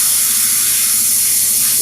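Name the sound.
airbrush spraying thinned high flow acrylic white paint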